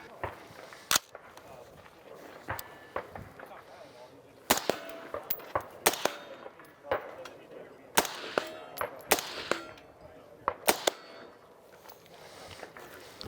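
Rifle shots fired at a 100-yard target at an outdoor range, a series of sharp, separate cracks spaced irregularly at moderate distance, with faint ambient noise between them.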